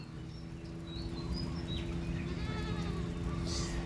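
Goats, a cross between Thai and foreign breeds with white bodies and red heads, bleat a few times over a steady low background hum, the calls thin and moderately distant.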